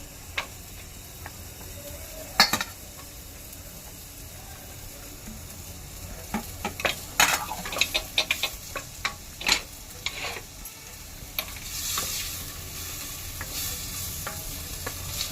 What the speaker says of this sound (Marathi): हा कांदा आता लालसर होईपर्यंत परतून घेऊया